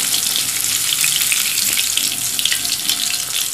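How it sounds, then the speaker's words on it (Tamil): Prawns for Prawn 65 frying in hot oil, giving a loud, dense, continuous sizzle with crackling pops, heard close up and without talk. "நல்லா ஃப்ரை ஆகிடுச்சு."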